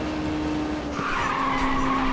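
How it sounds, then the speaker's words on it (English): A car drifts in Ridge Racer on PSP, its tires squealing in a long, sustained skid over a steady engine drone. No talk. "I've never seen a drift like that!"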